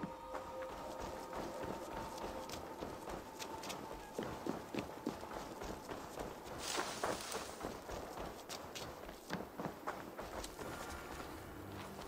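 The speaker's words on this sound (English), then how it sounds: "Here's my horse." Horse hooves clip-clop steadily across ground in Assassin's Creed Valhalla during the Siege of Paris, a rhythmic run of close, moderately loud footfalls over a constant background bed, with no talk.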